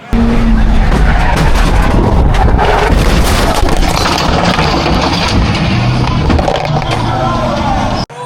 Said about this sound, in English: Hard hit into the outside wall for Victor Alvarez.